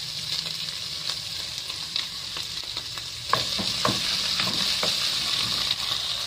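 A spoon stirs tomato paste into pork menudo in a hot pan, with scraping strokes over a steady frying sizzle, close and moderately loud, no talking.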